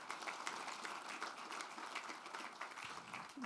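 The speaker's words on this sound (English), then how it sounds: "if you could please give a round of applause" A conference audience applauds panelists at a session on telematics, technology and transportation, a faint, distant, even wash of clapping that continues throughout.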